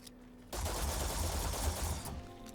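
A plasma weapon firing rapidly in Starfield, a dense, sustained burst of shots that starts suddenly and continues loud for about one and a half seconds before cutting off.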